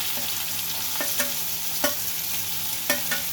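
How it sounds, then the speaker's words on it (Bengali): Onions and green chillies fry in hot oil with a hilsa fish head, a steady sizzle broken by a few sharp stirring scrapes and spatters. "সঙ্গে পেঁয়াজগুলো দিয়ে দেবো।"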